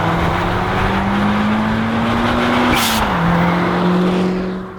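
A 1993 Fiat Punto GT Turbo drives with a loud, steady engine drone, pitch climbing, dropping briefly as the gear changes around the middle, then holding again.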